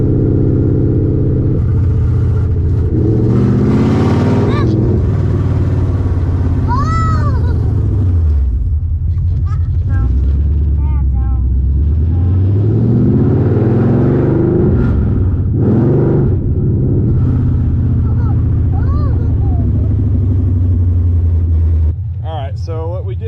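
A Coyote V8 swapped into a 1999 Mustang Cobra revs loudly at close range, its deep rumble rising and falling through several throttle blips, with someone talking over the engine at times.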